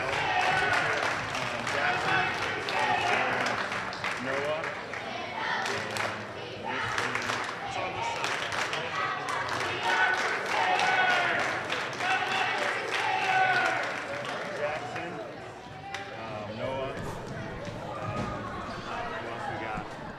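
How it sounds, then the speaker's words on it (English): Gym basketball crowd cheering and clapping as cheerleaders lead a cheer, a lively continuous hubbub with rhythmic claps and thumps, partly under a commentator's talk. "Here come the Crusader cheerleaders out to lead the fans in another cheer."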